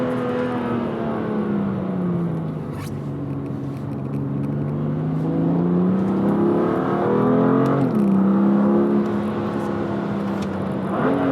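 A BMW M2 Competition with dual-clutch gearbox in sport mode accelerates hard, engine note climbing steadily, then dropping sharply at an upshift near eight seconds before rising again; loud and close, no voices.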